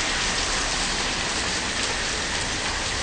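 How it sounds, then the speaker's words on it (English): Intense heavy rainstorm in daylight, a dense, steady roar of rain pouring down close by without a break. "I mean, it's raining hard."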